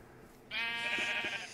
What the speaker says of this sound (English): Now we got three sheep